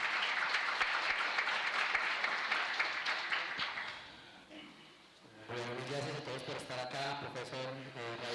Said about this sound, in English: strong applause.